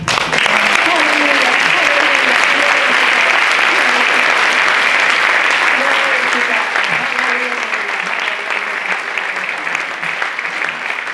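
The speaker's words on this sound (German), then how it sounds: "Gib dem Herrn einen Klatschopfer." A church congregation claps together in sustained applause for about eleven seconds, loud and dense throughout, with a faint voice mixed underneath.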